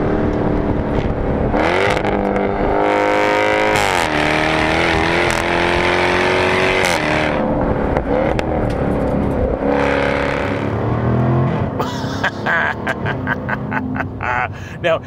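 A 2021 Jaguar F-Type R sports car engine accelerating hard with a loud, continuous rising roar and several gear shifts, followed by sharp crackling pops near the end, heard close with talk mixed in.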